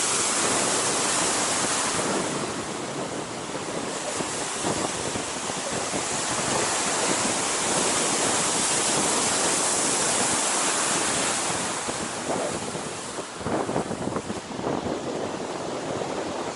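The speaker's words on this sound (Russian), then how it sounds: "Снег, бурное море." A steady roar of rough surf and gusting wind on a stormy sea coast in snowy weather at Zelenogradsk, loud and continuous, with wind buffeting the microphone throughout.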